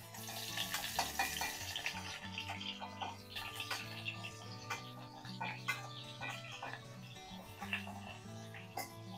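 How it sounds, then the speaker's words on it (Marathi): Bombay duck (bombil) fish frying in hot oil gives a steady, close crackling sizzle with dense spitting pops that last the whole time. "आवाज येतोय, तेलामध्ये मस्तपैकी ते फ्राय होत आहे."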